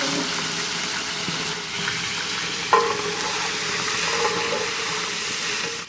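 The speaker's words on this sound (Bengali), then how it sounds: "তেলটা ঠিকভাবে গরম হয়ে গেছে। এখন হচ্ছে আমরা মাংস দিয়ে দিব।" Meat sizzles and fries in hot oil in a large pot for biryani cooked at a wedding feast, a steady crackling hiss with stirring scrapes and one brief louder clank near the middle.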